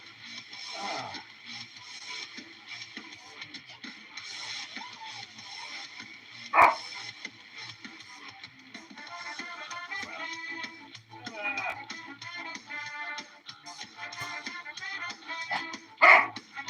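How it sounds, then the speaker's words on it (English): A dog barks in short scattered bursts with a few yips and whimpers, moderately close against a quiet indoor background, with faint sounds like a radio or voice in between. "What's the big bark all about?"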